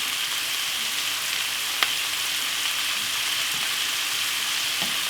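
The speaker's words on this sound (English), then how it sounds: "Give it a lovely stir." Chilli king prawns sizzle steadily in a hot pan while being stirred, a constant dense frying hiss with a single sharp tap of the utensil partway through, close and alone with no talk.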